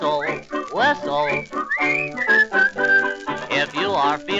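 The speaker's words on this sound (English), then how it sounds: "just whistle, whistle." A jaunty whistled tune from a 1931 dance-band song, the melody rising and gliding in short bright phrases over the band.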